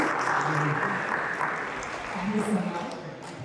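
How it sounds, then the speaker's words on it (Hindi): An audience applauds to welcome a guest at an IIT Kanpur event, a steady moderate wash of clapping with voices talking over it. "वेलकम सर, जोरदार तालियां हो गए आप सभी की"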